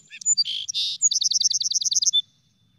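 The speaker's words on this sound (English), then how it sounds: "So that is the song sparrow." A song sparrow sings one clear, close song. It opens with a few separate introductory notes and then runs into a fast, even trill of repeated chirps before it stops, with nothing else in the background.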